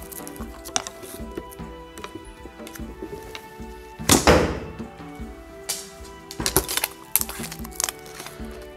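A bow releases an arrow in a sharp, loud thunk-and-whoosh burst near the middle, with softer handling clicks and knocks of archery gear around it.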